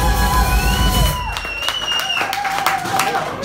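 Live club crowd in Constanta applauding and cheering for the band's bassist, a dense burst of clapping with whoops that fades as a voice speaks over it.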